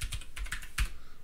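Keys tapped on a computer keyboard to enter Control-Alt-Delete and Enter, a quick run of five or six crisp clicks close up, with no talking.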